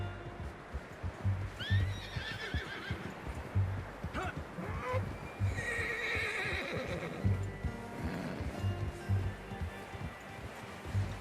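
A horse whinnies with a rising, quavering neigh in a Red Dead Redemption 2 camp, followed by a second shorter whinny, over hoof clops, lowing cattle and low ambient rumble.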